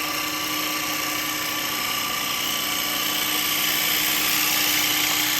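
Steady, loud whirring drone of a wood lathe spinning an ash bowl while a gouge bevel rides and cuts, a continuous machine hum with scraping texture and no talk.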